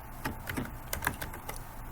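Keys tapped on a computer keyboard while entering text into a Jamboard text box, a steady run of light, close clicks with uneven rhythm and no voices.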